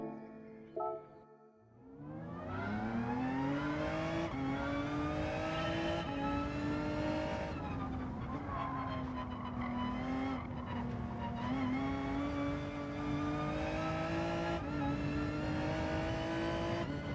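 Race car engine revving hard and continuously through gears in a Gran Turismo 7 daily race at Michelin Raceway Road Atlanta, loud and close, with rising and falling pitch sweeps and occasional tire noise.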